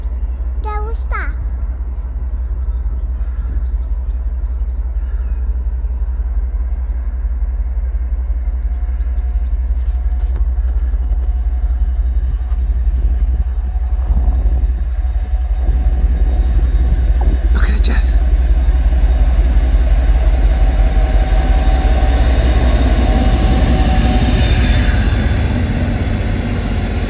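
A Class 56 diesel locomotive rolls past with a deep, continuous engine rumble and rail noise that swells steadily and stays loud throughout, with a few metallic squeals and clanks over it.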